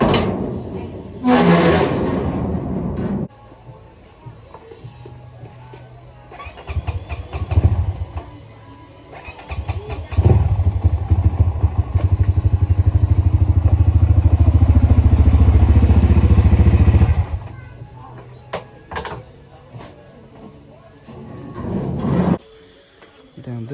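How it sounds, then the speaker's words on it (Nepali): A Crossfire motorcycle engine runs while the bike is moved indoors, rumbling in bursts that rise to a steady, loud, close drone for several seconds before cutting out, with clatter and pauses around it. "बाइक चाहिँ अहिले बाहिर छ म भित्र लिएर आउँछु ल गाइस"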